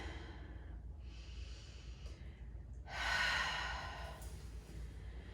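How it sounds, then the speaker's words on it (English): Slow, deep breathing during a yoga-Pilates workout, several soft airy breaths close to the mic followed by a louder, longer exhale near the middle, over a quiet background. "Take a nice breath in here."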